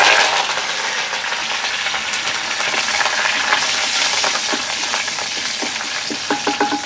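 Sliced onion and fenugreek seeds fry in hot coconut oil with a loud, dense crackling sizzle up close, with a few sharp pops and spoon taps near the end.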